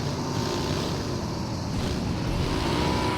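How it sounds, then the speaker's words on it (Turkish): Cars passing by across the way in a multiplayer shooter game, a steady broadband road rumble with a faint whooshing swell, continuous and moderately distant with no voices. "Araba gidiyor. Arabalar gidiyor karşıda böyle."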